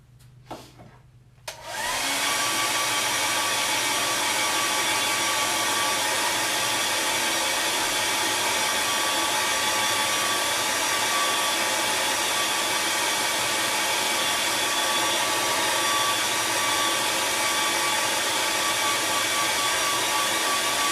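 A hair dryer is used to dry a painting, starting after a short quiet moment and then blowing a loud, steady, close whoosh with no break to the end.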